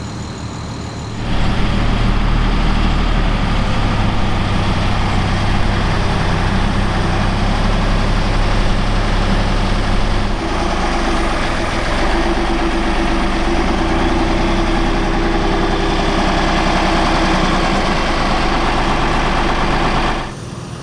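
A Unimog 416 truck's engine runs steadily as it pulls on an HMK trailer off-road, a loud, close, low diesel drone holding constant for about twenty seconds with a slight change in load partway through.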